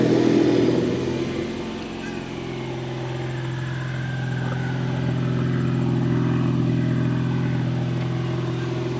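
A Ford Mustang EcoBoost fitted with a Mishimoto cold air intake idles and revs nearby, giving a steady low engine drone with a mild swell in the middle and no talking.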